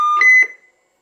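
A Cobra 148 CB radio gives a sharp tonal beep, a steady tone then two quick higher pulses, loud and close before silence.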